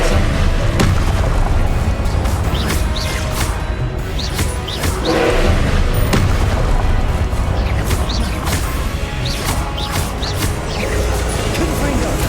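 Repeated booming blasts of the Confringo fire spell in the video game Hogwarts Legacy, dense and continuous with sharp bursts layered over rumbling game effects and music.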